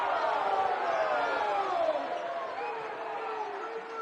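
Basketball crowd at a Cherokee Braves versus Spencer Tigers game reacting to a charge call, a steady loud wash of voices and displeased murmuring that holds throughout and eases slightly toward the end.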